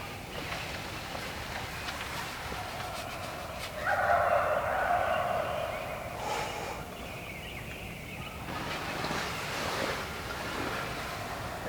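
A wild turkey gobbles outdoors on a turkey hunting trip, a rattling burst standing out over steady wind and surf-like background noise, followed by fainter calls; no one speaks.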